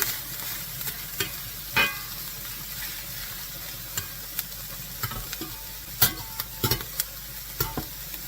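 Ham browning in a frying pan for macaroni ham and cheese, a steady crackling sizzle close by with occasional sharp utensil knocks and scrapes, no talking.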